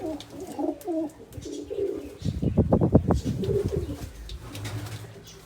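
An old female pigeon, about 15 to 16 years, coos in a burst of low, rapid throbbing pulses, fairly close, with softer bird murmurs before and after.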